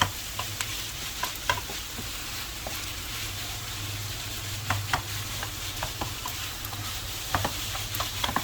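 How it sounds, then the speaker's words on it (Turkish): Minced meat being stirred and mashed in a frying pan, soft sizzling under steady scraping and irregular clicks of a utensil against the pan, close and moderately quiet. "Kıymanın rengi dönene kadar videoda gördüğünüz gibi eze eze karıştıralım"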